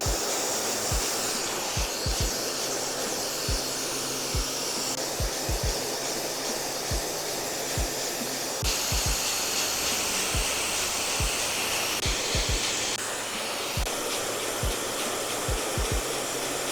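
A hair dryer set to low heat and high power roars steadily and close while styling a textured crop mullet, with the airflow shifting in tone as it moves and frequent sharp clicks from a vent brush, no talking.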